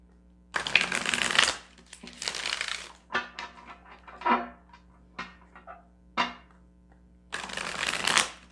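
Tarot cards are shuffled in several quick riffling bursts separated by brief pauses, crisp and close, with no talking.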